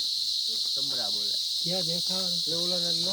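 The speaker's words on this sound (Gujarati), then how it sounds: "તમરા બોલે" Crickets chirp in a steady high-pitched drone outdoors at night while someone talks over it.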